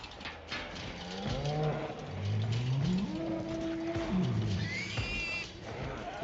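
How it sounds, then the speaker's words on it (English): Cattle on a farm lowing and mooing in several long, drawn-out calls, close and fairly loud, one after another with overlapping voices and a faint mechanical rattle behind. "I swear I hear cattle."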